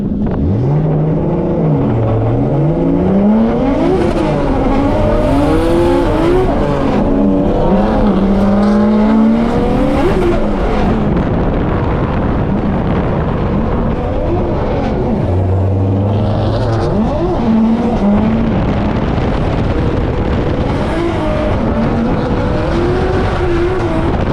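Drift cars on a tandem chase run in qualifying at an Australian competition: loud engines rev and wail up and down through slides, with tire squeal and a steady roaring drone throughout.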